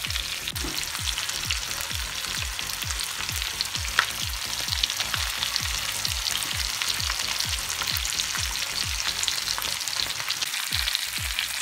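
Steady, loud sizzling of tuna steaks frying in a hot pan with crushed garlic, continuous crackle with a rhythmic pulsing underneath, no voices.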